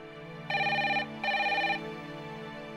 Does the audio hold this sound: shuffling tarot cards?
no